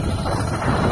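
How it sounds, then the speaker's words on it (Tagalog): Steady broadband wind rushes across an open field, a dense low rumble with no gaps, fairly loud and continuous throughout. "Ngayon po hangin dito sa bukid."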